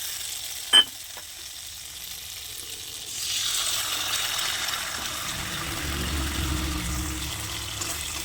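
Oil hitting soybean curry in a hot kadai gives a steady, close sizzle that swells after a few seconds and keeps going to the end, with a brief sharp clink near the start.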